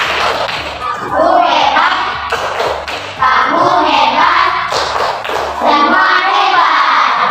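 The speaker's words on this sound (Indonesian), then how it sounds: "kita kasih nilai 100 untuk kelompok 2 dan kita beri tepuk hebat" Classroom group giving a rhythmic clapping cheer, close and loud, with patterned hand claps and thuds mixed with children's voices throughout.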